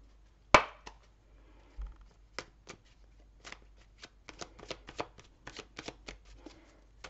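A deck of tarot cards being shuffled and cut, with a sharp initial snap followed by a quick run of crisp riffling clicks and taps, close and clear in a quiet room.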